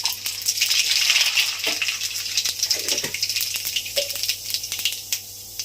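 Nigella seeds hit hot oil left from frying fish for a curry, giving a bright, crackling sizzle with scattered pops and spits that slowly settle, close and unbroken by speech.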